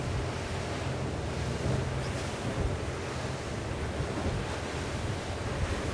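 A Cranchi A46 luxury tender motor boat pushes into waves with the sea on the bow. Loud, steady rushing of surf and water is heavily mixed with wind buffeting the microphone, with no voices.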